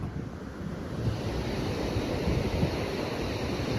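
Rough sea surf rolls in at Varkala beach in Kerala as a continuous low roar, with gusty wind buffeting the microphone and no voices.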